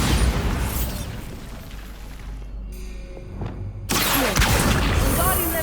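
A Bombarda spell goes off as a loud, broad blast with a heavy rumbling roar; the noise drops briefly, then surges back, with a voice heard alongside.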